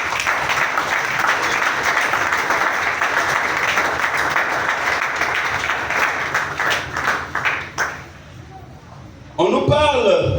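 A church congregation bursts into sustained applause and cheering for several seconds, dense and fairly loud, before it fades out and a voice begins speaking near the end.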